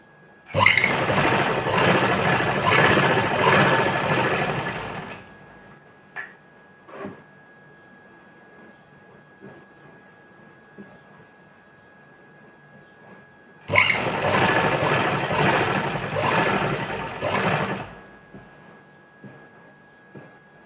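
A sewing machine runs in two long bursts, stitching the side fitting seam of a suit, loud and close, with a quiet pause between runs and a few small clicks.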